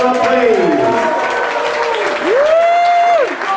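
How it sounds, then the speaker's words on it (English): An audience at a polo club event applauds and cheers loudly and densely throughout, with shrill tonal whoops and voices rising over the crowd noise. "let's get a big round of applause"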